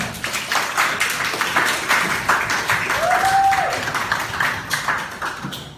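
A classroom gives applause for a presenting group, with steady, fairly loud clapping from many hands filling the room throughout and a brief voice heard beneath it.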